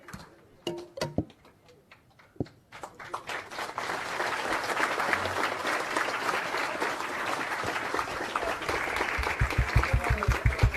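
Crowd applause at a BJP outreach rally in Mumbai, starting after a few sharp claps and swelling into sustained, dense clapping that runs steadily to the end, with rhythmic beats near the close.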